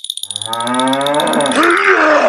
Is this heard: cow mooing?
yes